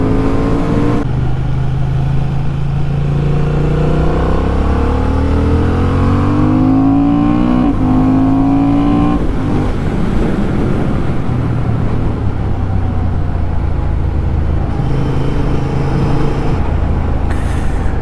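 Honda naked motorcycle accelerating hard on a race track, engine note climbing through the gears with rising harmonic sweeps, loud and close throughout, steady roar with brief dips at shifts.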